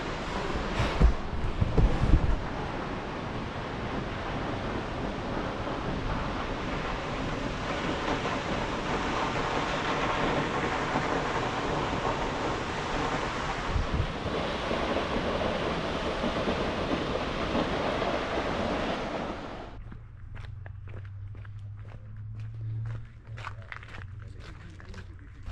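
A Yosemite waterfall running in September makes a steady, broad rushing roar for about twenty seconds. The roar then cuts away to quieter outdoor ambience with a low hum and scattered light ticks.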